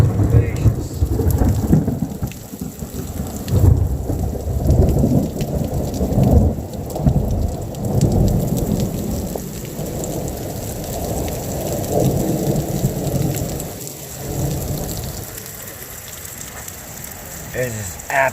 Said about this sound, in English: This storm is vicious.